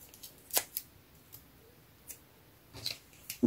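Scissors snip small strips of paper for a handmade card: several sharp, close cuts scattered among quiet pauses, with a louder snap at the very end and no voices.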